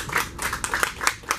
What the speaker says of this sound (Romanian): felicitări Ionuț Ceaușescu, ți-l aplaudăm și echipei lui